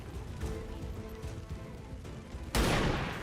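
A single loud gunshot in the video game XCOM 2 bursts out near the end after a stretch of low, muffled game ambience.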